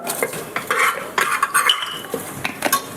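Fennel seeds and kasuri methi sautéing in a pan while cloves cook alongside, with busy metallic scraping and clinking of a spoon against the pan, rapid and close, and a faint sizzle underneath.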